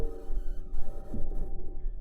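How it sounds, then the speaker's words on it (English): A NASA rover with metal wheels driving across the Martian surface, giving a steady grinding, humming drone with a sustained low rumble and faint high tonal whine, continuous and fairly close, with no talk. "This is the sound of the rover driving on Mars."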